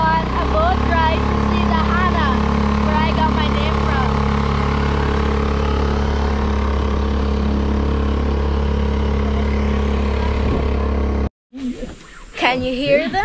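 A motorboat engine's steady low drone runs throughout, with a voice chattering over it, then the motor noise cuts out abruptly near the end.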